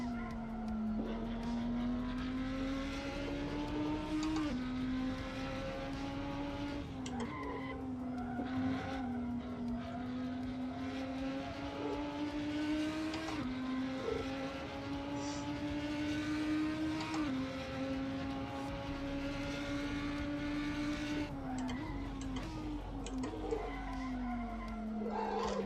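GT3 race car in Assetto Corsa, engine howling loudly and continuously through repeated upshifts and downshifts, pitch climbing then dropping at each gear change, with occasional tyre noise and no talk over it.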